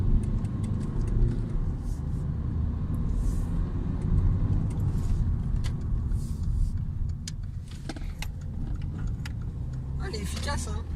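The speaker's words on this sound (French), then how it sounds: "Il a un petit bruit pour un diesel quand même." Mercedes A-Class with a small diesel engine drives past, a steady low rumble of engine and road noise holding close and fairly loud for several seconds, with scattered clicks and voices talking over it.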